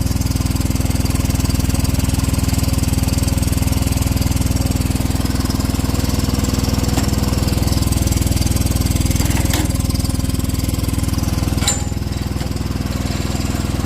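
A John Deere 425 lawn tractor engine runs continuously and loudly nearby with a steady, slightly rough mower-like drone, with no voices over it.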